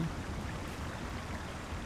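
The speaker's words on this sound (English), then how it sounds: "And another waterfall coming down on top of us." Steady rushing waterfall near Wellinghall in Lord of the Rings Online, a broad even wash of falling water, close and continuous with no voices.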